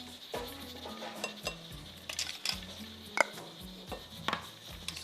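Carrot bread batter with baking powder being stirred in a bowl, quiet repeated scraping and clinking strokes in an uneven rhythm, close up with no talking.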